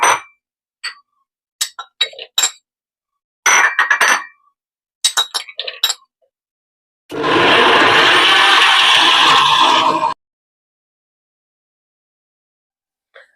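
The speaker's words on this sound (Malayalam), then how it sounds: "നമുക്കിതെല്ലാം കൂടി മിക്സിയുടെ ജാറിലേക്ക് ഇട്ട് ഒന്ന് ബ്ലെൻഡ് ചെയ്തെടുക്കാം." A kitchen mixer blender whirs loudly and steadily for about three seconds, blending papaya with milk in a mixie jar, preceded by scattered clinks and taps of ingredients going into the jar.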